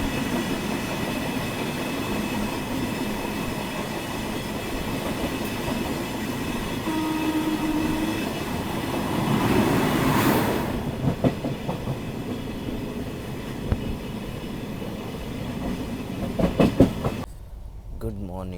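The Poorva SF Express rolls along the rails with a steady rumble and rhythmic clickety-clack, swelling as it passes, then sharper wheel clatter and a few knocks near the end; faint voices may sit beneath.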